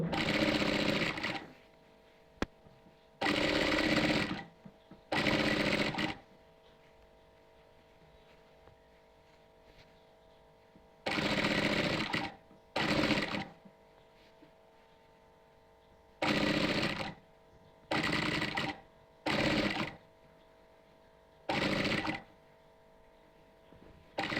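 A sewing machine stitches a round-neck front-button nighty in repeated bursts of a few seconds each, separated by pauses, loud and close with no talk over the stitching.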